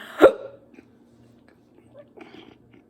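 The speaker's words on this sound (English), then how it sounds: "I have hiccups." One sharp hiccup from a person, loud and close, followed by quiet breathing and faint rustling.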